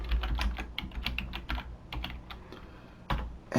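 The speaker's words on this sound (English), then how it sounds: "I'll just type some numbers and a savings account and a credit card" Close keystrokes on a computer keyboard come in quick irregular bursts with short pauses, crisp clicks and soft thumps, with no talk.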